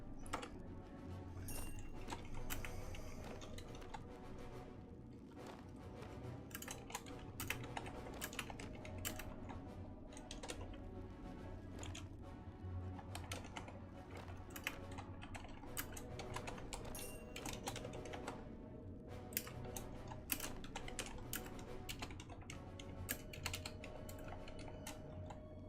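Steady computer-keyboard typing runs the whole way through, a dense patter of clicking keystrokes in close, continuous bursts with no talking, during a RuneScape 3 session.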